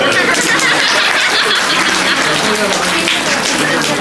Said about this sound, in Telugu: ఈ కోలాటం ఆడిన వాళ్ళు చప్పట్లు కొట్టండి